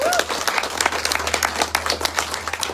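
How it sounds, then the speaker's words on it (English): Audience applause at a panel discussion event, a burst of many hands clapping with distinct slaps standing out, fairly close and lively, alone without talk. "Big round of applause for everybody involved."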